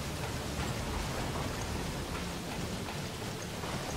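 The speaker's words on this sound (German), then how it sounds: "es regnet" Steady rainfall in the video game Resident Evil Revelations patters continuously at moderate loudness, a dense even wash of drops with no voices.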